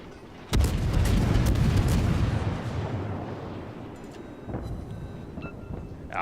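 Warship guns firing in the naval video game World of Warships: a sudden loud booming salvo that rolls and slowly fades over several seconds, with faint interface clicks afterward.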